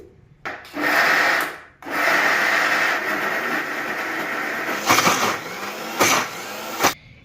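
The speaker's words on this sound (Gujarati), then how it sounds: "મિક્સરમાં પીસી નાખીએ" A kitchen mixer grinder whirs through chana dal with water into batter for live dhokla, running in several loud bursts with short pauses and sharper pulses toward the end.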